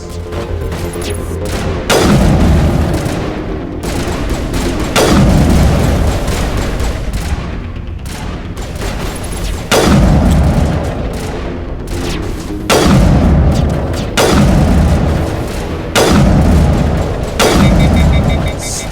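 Heavy, booming sniper shots in Mass Effect, about seven loud blasts spaced roughly two to three seconds apart, each with a long rumbling tail.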